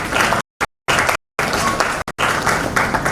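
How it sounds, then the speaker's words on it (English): Loud crowd clapping welcoming a keynote speaker at the Afritech 5.0 conference, a thick wash of many hands broken by several abrupt silent dropouts before resuming. "We can do better with the applause."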